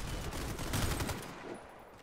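Gunfire in the online shooter Warface, with a Scar-L PDW in play: a dense, noisy two-second burst of shots that fades toward the end, no talk over it.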